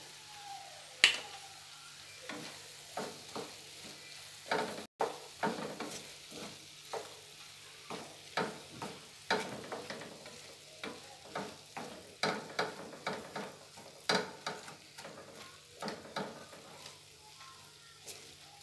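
Tuna sizzles in hot oil while being stirred, with repeated scraping and clacking strokes of a utensil against the pan, close up.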